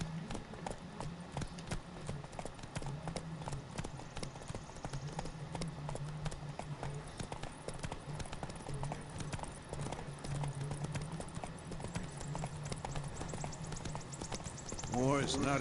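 Video game horse hooves clip-clop in a steady, quick rhythm over a busy background of ambient noise, with a brief horse-like whinny near the end, in The Witcher 3: Wild Hunt.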